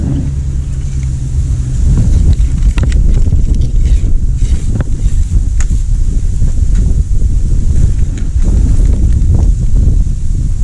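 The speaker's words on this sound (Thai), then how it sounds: "ลมค่อนข้างแรงนิดนึงนะครับผม" Strong wind buffets the microphone steadily beside a fishing pond swollen by recent rain, a loud, continuous roar with gusty rumbling throughout and no speech.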